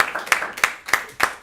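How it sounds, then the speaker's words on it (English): Sharp, evenly spaced claps, about five in a row, sounding like a small group applauding nearby at a swearing-in ceremony. "you can clap if you wish"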